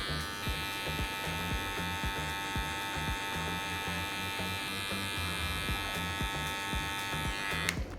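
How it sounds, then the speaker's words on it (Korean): An electric hair clipper buzzes steadily and close up throughout a short men's haircut, its hum running continuously with brief strokes as it works through the hair near the 3 mm to 4.5 mm guard lines, with no talking. "클리퍼를 먼저 오픈한 상태로 작업을 하도록 하겠습니다."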